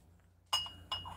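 A custard glass piece with a grape and basket weave pattern gives two sharp, bright clinks about a third of a second apart, fairly faint against a quiet background.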